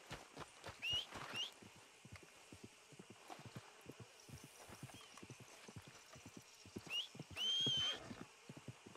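Horse in the video game Red Dead Redemption 2, hooves clip-clopping at a steady walking rhythm with two short whinnies, faint and somewhat distant, with no talking.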